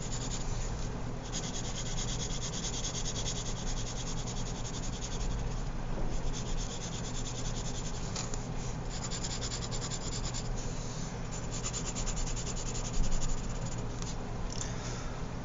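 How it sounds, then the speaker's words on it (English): A pencil lightly shading a drawing on paper, producing a soft, continuous rubbing and scratching that holds steady and faint for the whole stretch, close up with no voices. "what I'll just do is just use my pencil just to shade in lightly what I've drawn."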